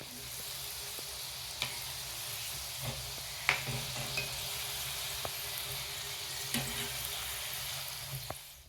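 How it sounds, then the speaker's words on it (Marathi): Dhonde dumplings deep-frying in hot oil for an Adhik Maas festive recipe, giving a steady close sizzle and bubble with a few sharp clinks of a utensil at scattered moments; no one speaks. "तर आता आपण हे धोंडे तळून घेणार आहोत।"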